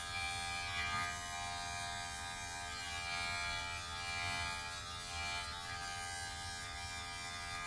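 Electric hair clippers buzz steadily while fading a beard, a quiet constant motor whine close by with slight shifts as the blade moves, no voices.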